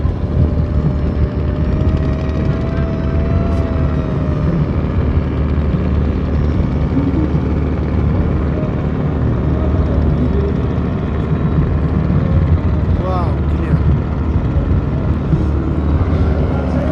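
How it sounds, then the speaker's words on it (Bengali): A drone flying out from the moving paddle steamer PS Masud blends into a loud, continuous engine and propeller drone. A thin whine rises over the steady mechanical roar. "পাখির চোখে আমরা ড্রোন শট নিচ্ছি"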